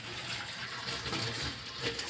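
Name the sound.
griddle pan rinsed under running tap water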